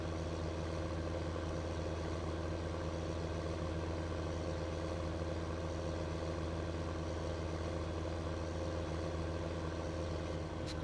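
A Case tractor engine runs in Farming Simulator 2015, a steady low mechanical drone that holds constant and unbroken throughout, with no talking.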